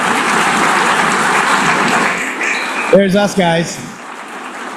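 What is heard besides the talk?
applause at the UN General Assembly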